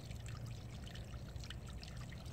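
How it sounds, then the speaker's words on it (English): A backyard pond waterfall, just switched on, runs with water after leaves had clogged the pond: a continuous, even rush of splashing and trickling with no pauses and no talking. "Here comes a waterfall."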